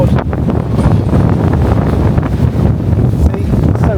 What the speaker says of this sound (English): see, it's so windy.